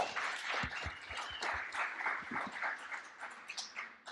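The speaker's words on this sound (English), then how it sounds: "Round of applause for KJ, please." A modest crowd claps fairly quietly, scattered hand claps blending into a soft wash of applause that continues for several seconds.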